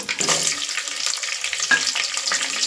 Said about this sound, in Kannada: ಸಾಸಿವೆ ಜೀರಿಗೆ ಚಟಪಟ ಅಂದಮೇಲೆ ಇದಕ್ಕೆ ನಾನಿಲ್ಲಿ ಒಂದು ಈರುಳ್ಳಿ ಎರಡು ಹಸಿಮೆಣಸಿನಕಾಯಿ ಕರ್ಬೇವಿನ ಸೊಪ್ಪು ಮತ್ತು ಬೆಳ್ಳುಳ್ಳಿನ ಹಾಕೊಳ್ತಾ ಇದ್ದೀನಿ